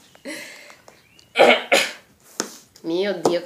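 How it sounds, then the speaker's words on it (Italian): A few sharp, harsh coughs close by, one after another, followed by a brief voiced sound. "Mio Dio, che tosse."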